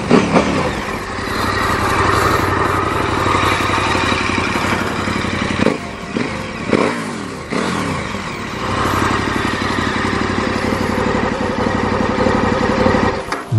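A KTM 1290 Super Adventure R with a V-twin engine and Akrapovic muffler, idling loudly close by and blipped a few times, a brief drop around the middle before the throaty engine note picks back up.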